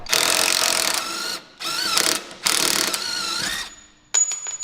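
Ratchet clicks rapidly in close, repeated bursts while undoing suspension shock bolts on an Audi A4 B6, three runs of ratcheting separated by short pauses, then a sharper metallic clunk at the end.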